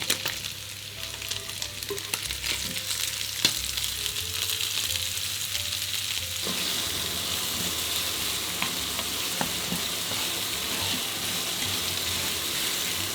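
Bacon lardons and spring onion whites fry in a hot pan, giving a steady close sizzle with bursts of crackle and occasional scrapes and knocks of stirring.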